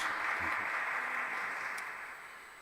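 Audience applause for a priest at a Sunday Eucharistic celebration: a short burst of steady, even clapping that fades slightly toward the end.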